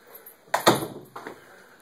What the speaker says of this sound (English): Oh, gotta close the door behind me.